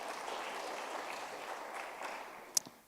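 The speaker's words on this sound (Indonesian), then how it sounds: "Kasih tepuk tangan dulu dong buat Tuhan Yesus." A church congregation at a GBI sermon service applauds, moderately loud steady clapping that slowly fades, with a sharp brief click near the end.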